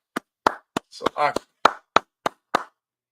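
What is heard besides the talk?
people clapping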